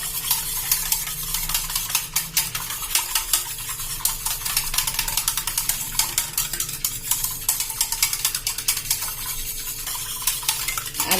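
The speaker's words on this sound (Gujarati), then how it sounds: "તમે ચમચીથી કરો કે વિસ્કરથી કરો, આ રીતે તમારે એકદમ સરસ મિક્સ કરી લેવાનું છે" A spoon or whisk stirs oil into a mixture in a bowl, giving steady scraping and clinking strokes against the container, close and continuous throughout with no talking.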